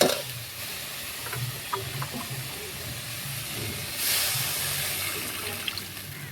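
Water is added to tilapia masala frying in a pan, and a loud steamy hiss bursts up partway through over a low, constant bubbling sizzle.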